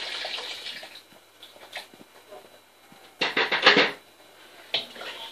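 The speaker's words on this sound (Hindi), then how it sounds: "अब मैं इसमें पानी डालूंगी।" Water poured into a cooking pot while making chicken nihari, a quiet trickle that swells into a louder splashing gush midway, then fades, with a brief clink of the pot near the end.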